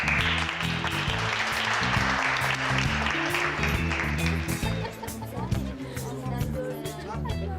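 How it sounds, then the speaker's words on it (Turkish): An audience at a Turkish stage show claps in a dense, sustained wash. The clapping runs alongside a loud, rhythmic music backing, with some crowd chatter mixed in. "Alkış!"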